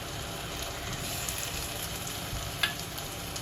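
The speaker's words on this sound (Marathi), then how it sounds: "आता आपण यावर टोमॅटोची प्युरी घालूया." Tomato puree, made from two blended tomatoes, sizzling as it hits browned onions in hot oil for chicken kheema, a steady close crackling hiss with one brief clink of a spoon.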